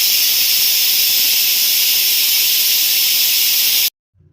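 A pressure cooker of foxtail millet, lentils, vegetables, salt and water vents steam in a loud, steady, harsh hiss for about four seconds, then cuts off abruptly into silence.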